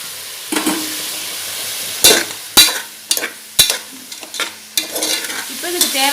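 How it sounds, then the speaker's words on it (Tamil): Mushrooms, onion, tomato and ginger-garlic paste fry in a pan for a mushroom biryani, a loud steady sizzle broken by repeated sharp scraping stirs and clinks of a spoon against the pan. "இப்போ நல்லா ஃப்ரை ஆகட்டும், நல்லா வணங்கட்டும்."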